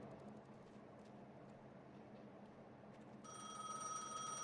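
A telephone rings inside the video game Gas Station Simulator, a bright electronic trill starting partway through, alone over quiet low background hum.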